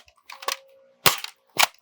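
A Nerf Trion blaster fed from a Gameface magazine fires foam darts in three sharp pneumatic pops, each followed by a short rattle, close and fairly loud in a quiet room.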